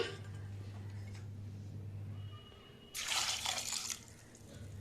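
Water poured into a pressure cooker holding dal with garlic, green chilli, onion, turmeric and asafoetida, a short splashing burst after a low hum, heard faint and close with no talk.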